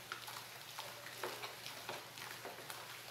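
A spoon pushes and beats homemade soap mixture with dissolved lye in a container, giving soft rhythmic scraping strokes roughly every half second, close and fairly quiet, with no talking.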